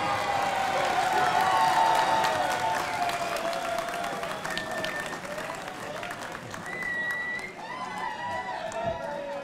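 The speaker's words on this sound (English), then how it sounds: "That's the best cheer of the night" Applause and cheering from the audience at a business awards ceremony, close and dense at first then thinning, with a few whistles and shouts over steady clapping.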